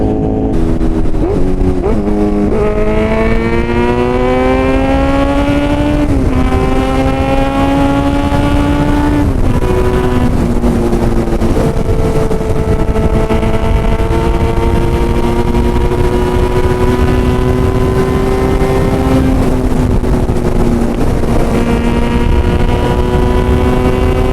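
Kawasaki Z900 motorcycle fitted with an Arrow full exhaust system, revving loudly at high rpm in sixth gear, with rising and falling engine pitch sustained throughout, close and dominant.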